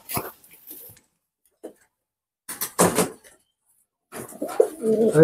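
Black Indian Lokha pigeons, adult birds kept for breeding, coo in short, separate bursts with quiet gaps between them, the calls growing louder and busier toward the end.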